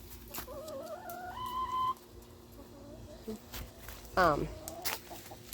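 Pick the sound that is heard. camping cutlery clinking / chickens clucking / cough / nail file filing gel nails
chickens clucking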